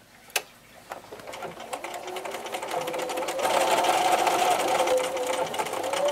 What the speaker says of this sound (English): Sew again along the same line just to reinforce the seam.